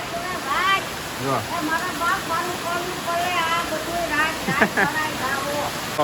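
Floodwater rushes through a street after heavy rain, a constant broad watery roar that runs under people talking nearby throughout.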